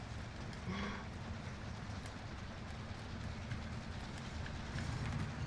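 A train running in Call of Duty: Warzone, heard as a steady, fairly faint rolling rumble and clatter of rail cars that continues without pause, with no talk over it.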